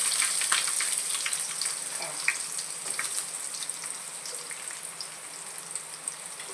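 Cumin, onion and green chilies sizzle in hot oil for Maggi noodles, a steady bright crackle with scattered pops, close and alone without talk.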